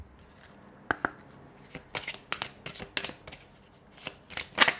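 Tarot cards being shuffled by hand for a reading, a series of close, crisp riffling bursts and flicks of varying length, with quiet gaps between them and no talk.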